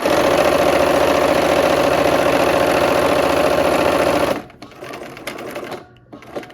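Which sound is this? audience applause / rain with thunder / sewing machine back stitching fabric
sewing machine back stitching fabric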